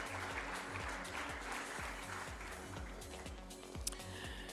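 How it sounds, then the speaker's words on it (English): A conference audience applauds a discussion panel, with continuous crowd clapping under a rhythmic low musical beat, moderately loud throughout. "Big round of applause, ladies and gentlemen, for the panel."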